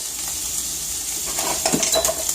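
Onions tossed into a hot pan give a steady, moderate sizzle, with light clinks and scrapes of a utensil against the pan toward the end.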